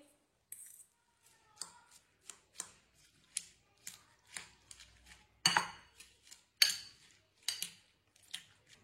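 A spoon mixes salt, red chili powder and ground cumin in a bowl, giving a steady series of about a dozen crisp metallic clinks and scrapes, close and clear over near silence.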